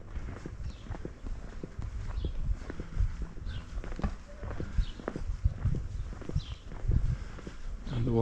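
Horse hooves clip-clop at a steady walking pace on a street in Magaluf, close and fairly loud, with rustling and other background sounds mixed in.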